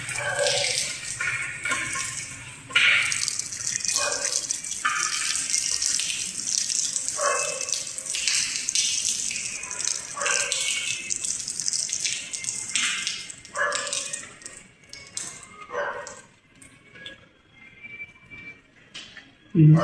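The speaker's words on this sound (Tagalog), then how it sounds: "water meter, tumutulo." Water drips and trickles from a water meter with a broken gasket, heard alongside tap-like running water, a dog barking now and then, and people talking nearby.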